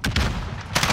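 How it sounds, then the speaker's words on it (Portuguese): Rapid gunfire from a weapon in the video game Modern Warfare, a short burst of loud, close shots crackling in quick succession. "Agora minha arma tá atirando."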